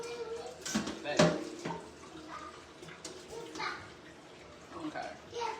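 Garlic rinsed under a running kitchen tap, a soft irregular splash of water with faint clinks, while a person speaks over it.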